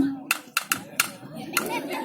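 A few sharp hand claps in an irregular rhythm, close by, with a voice murmuring faintly underneath.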